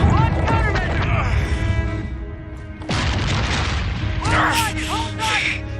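Heavy booms and blasts ring out in Call of Duty: Infinite Warfare, with dense gunfire and explosions filling the whole stretch, loud and close, while shouted voices cut in over the battle.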